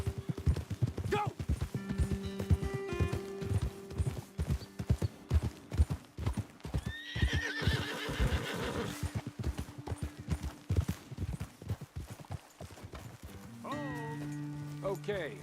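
Horses in Red Dead Redemption 2 moving at a brisk clip-clop over the ground, hoofbeats steady and close, with a brief whinny and people talking over the hooves.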